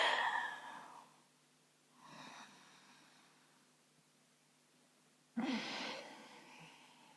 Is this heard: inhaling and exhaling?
yes